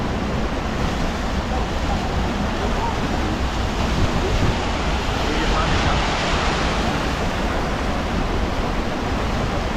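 Rushing, churning water of a Hafema-built river rapids ride at a German theme park, a steady loud wash of surf-like turbulence with a wind-like roar, heard close and continuous throughout.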